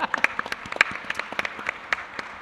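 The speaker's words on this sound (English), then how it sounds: "Woo woo for Ashley, round of applause." A small audience at a Department of Defense cyber panel gives scattered, thin applause. The individual hand claps are sharp and distinct, some louder and nearer, and they come at an uneven rhythm over a couple of seconds.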